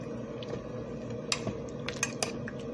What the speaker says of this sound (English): I just give them a little stir.